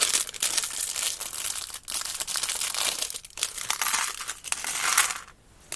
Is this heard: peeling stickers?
yes